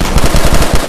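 A burst shotgun firing in Call of Duty Black Ops 2 Zombies, played in VR: loud, close, rapid repeated blasts in quick regular succession across the whole short clip, with no talk.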